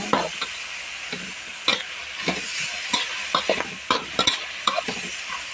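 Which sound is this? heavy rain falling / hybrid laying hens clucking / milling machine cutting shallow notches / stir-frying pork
stir-frying pork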